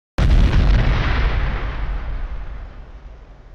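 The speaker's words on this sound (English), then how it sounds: "The pilot's console exploded, throwing him across the cabin" A pilot's console on a spaceship explodes in one sudden, loud blast that fades into a long, rolling rumble, heard alone.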